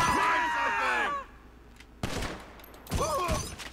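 Bursts of gunfire in GTA 5 Online: a loud volley, a pause, then two more sharp bursts, with game voices mixed in among the shots.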